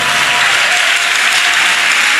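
A church congregation applauds during a French-language sermon, with dense, steady clapping that holds at full loudness throughout and no pauses.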